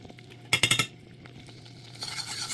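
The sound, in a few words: stirring flour into melted butter to make a roux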